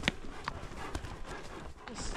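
A new horse being ridden and trained along a ranch drive, its hooves clip-clopping in an uneven series of sharp taps at close range, with faint background noise.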